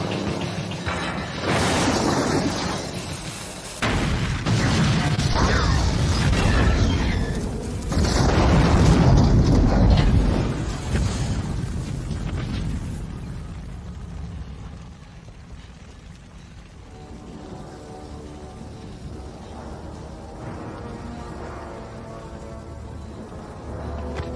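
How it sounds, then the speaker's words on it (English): A big film explosion from The Terminator rumbles in loud, booming waves for about ten seconds, then fades into a lower, thinner rumble and a long mechanical tail. "let me play the clip of the explosion, man."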